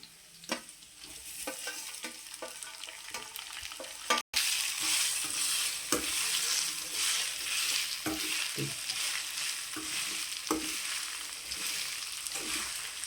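A spatula scrapes and knocks around a pan in repeated strokes, mixing boiled sesame-cake flour into a spice tempering, while it sizzles loudly and continuously underneath.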